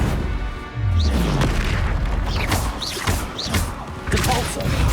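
Bombarda spell explosions in Hogwarts Legacy combat, several loud booming blasts and thuds in quick succession among other spell effects, with no talk.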